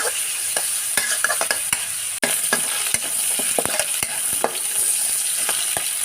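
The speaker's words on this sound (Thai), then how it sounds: "ตอนนี้ก็ใส่หมูลงไปเลยค่ะ ผัดให้มันสุกดีเลยนะคะ" Pork stir-fried in a hot pan for a mixed vegetable stir-fry, a loud constant sizzle broken by frequent sharp clicks and scrapes of a spatula tossing the meat, close and busy throughout.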